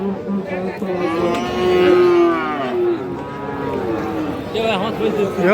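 Cattle, Friesian and crossbred bull calves, moo repeatedly in long, wavering calls at a cattle market over a busy crowd murmur, with people talking nearby.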